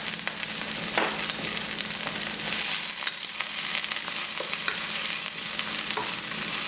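Curry leaves, green chilies and onions sizzle and fry steadily in a pan for a Sri Lankan eggplant curry, with occasional stirring scrapes over the constant crackle.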